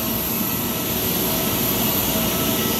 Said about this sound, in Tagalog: Oh, videohin natin yung eroplano.